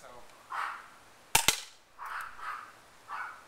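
A CO2 airsoft pistol fires two sharp, close snaps in quick succession, with softer pings of BBs bouncing off a fence spread before and after; the surroundings are otherwise quiet.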